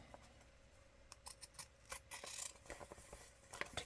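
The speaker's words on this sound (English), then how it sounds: "I'll use my scissors" Scissors snip through fabric around the edges of a policy envelope pocket, giving quiet, close, irregular cuts and rustles with no talking.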